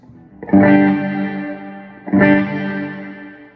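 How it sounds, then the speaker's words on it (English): Electric guitar through an EVH 5150 III 50-watt 2x12 EL34 amp with the reverb turned all the way up, two loud distorted chords struck about 1.6 seconds apart, each ringing out in a long washy tail. "Let's go to reverb all the way up."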